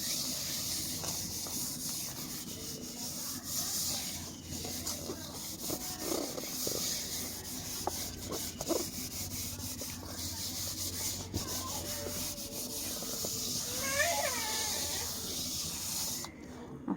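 Ash is rubbed by hand onto the bottom of a cooking pot, making a continuous dry, gritty scraping close by, with faint background sounds and no speech.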